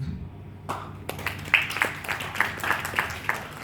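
An audience in a student interaction session breaks into scattered clapping after a brief quiet start, many hands striking irregularly and fairly close, with a few sharper claps standing out.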